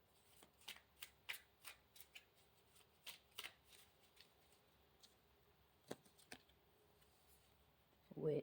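A tarot card deck is shuffled in quick bursts of crisp riffling and slapping clicks, irregularly spaced and close, with a soft low murmur at the very end.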